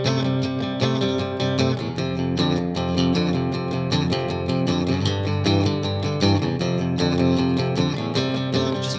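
Guitar plays a rock and roll solo progression, a steady strummed rhythm with dense chords that runs continuously at an even, moderate loudness with no talking.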